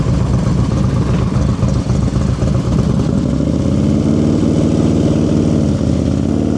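A motorcycle engine during advanced slow-speed riding practice in California holds a steady, close mid-pitched drone, with uneven low throttle pulses early on that settle into an even idle-like hum.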